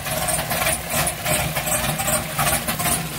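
A cammed Chevrolet engine idles with a choppy, lopey rhythm, pulsing unevenly a few times a second, close and steady with no voices.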